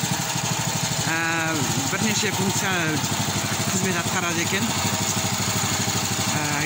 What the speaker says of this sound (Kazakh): Нағашым мынандай мотор алыпты.